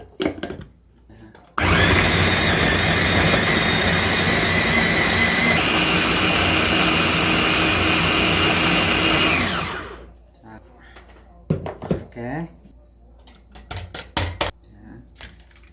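A kitchen blender whirs loudly and steadily for about eight seconds, grinding ingredients with salted shrimp for water kimchi. Its pitch shifts slightly midway before it winds down, with a voice and clinking dishes before and after.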